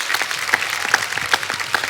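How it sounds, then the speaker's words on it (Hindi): A TV talk-show studio audience applauds: brisk, steady clapping from many hands with a slightly rhythmic pulse, fairly loud and continuous for the whole short stretch. "मैं चाहूंगा कि तमाम लोगों की तरफ से एक जोरदार तालियां"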